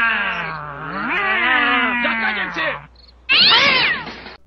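A cartoon cat gives a long, wavering, drawn-out meow, then a short pause and a second sharper yowl, loud and close.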